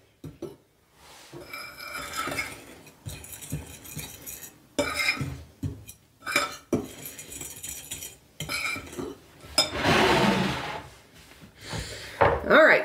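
Utensil stirring dry ingredients for pumpkin chocolate chip bread in a bowl, giving irregular clinks and scraping bursts of cutlery against the bowl, close and fairly loud with short pauses, no talking.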